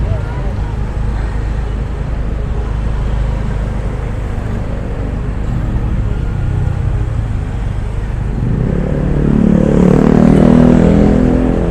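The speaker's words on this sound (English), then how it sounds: "It caused a lot of traffic." Slow road traffic in Kuta, Bali, rumbles as a steady engine drone with passing cars and motorbikes, nearby and continuous, swelling louder near the end.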